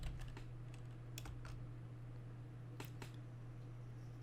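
Faint clicks of a computer keyboard come in short bursts of keystrokes over a steady low electrical hum.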